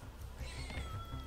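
A single drawn-out cat meow rings out close by over a low background rumble.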